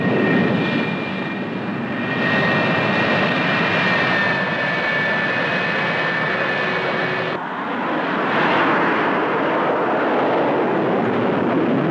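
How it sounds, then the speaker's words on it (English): Fighter jets heading for bombing targets during the Rolling Thunder air campaign produce a loud, steady jet-engine roar with a high whine, swelling and shifting as the aircraft pass, with no voices. "Fighters head for their targets."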